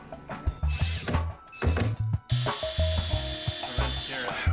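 A drill boring holes for concealed cabinet hinges while a finished bathroom vanity is installed, heard as several short bursts of whirring motor with pauses, then a longer steady run under occasional talk.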